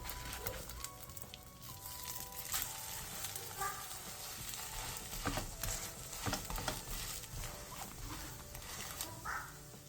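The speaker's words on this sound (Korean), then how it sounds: "바닥이 노릇노릇해지면 뒤집고 뒤집은 쪽도 마저 노릇노릇하게 붙여주세요." Fish cake pancakes (eomuk-jeon) fry in an oiled pan for budget side dishes, giving a steady close sizzle and crackle with scattered spatula taps and scrapes for the whole stretch.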